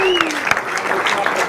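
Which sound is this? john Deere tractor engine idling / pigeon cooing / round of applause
round of applause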